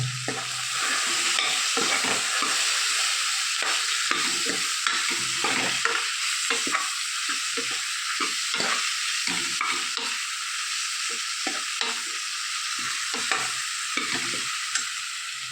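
Turmeric and asafoetida powder frying in oil in a pan, stirred steadily, giving a continuous loud sizzle broken by repeated scraping strokes of the spoon, with no talking.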